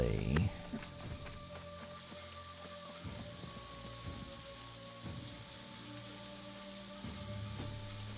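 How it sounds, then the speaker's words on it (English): Rain falling in New World, a steady hiss of drops on surfaces throughout, with faint low thuds and ambient game tones underneath. "No, it's rain."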